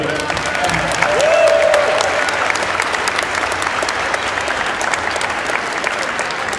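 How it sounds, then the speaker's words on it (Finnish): A crowd applauds everyone at the finals of a summer assembly event, sustained dense clapping swelling slightly early on, with a brief voice heard faintly among the claps. "Isot aplodit vielä kerran kaikille."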